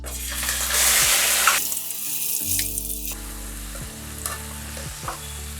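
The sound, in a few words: crushed masala added to very hot oil, sizzling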